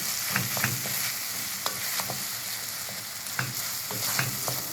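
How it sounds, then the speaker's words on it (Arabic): Rice being stirred as it heats in a pan: a continuous soft sizzle with repeated scraping strokes of the spoon across the pan at an irregular pace, close up and without voices. "وهنبتدي بقى نقلب كويس جدا جدا جدا جدا جدا لحد ما الرز بتاعنا يسخن"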